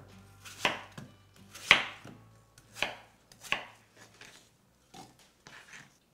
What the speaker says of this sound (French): Avant de couper votre deuxième pomme, vous allez garder 2 côtés comme ça pour la décoration.